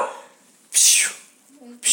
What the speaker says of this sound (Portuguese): Ah, eu tô com um cachorro novo aqui.